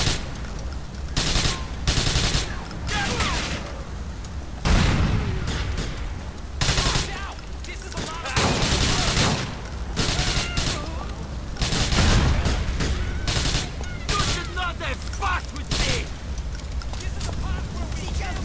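Bursts of gunfire from GTA IV ring out as shots are fired at a window, with several loud volleys spaced irregularly over steady game background noise and occasional talking.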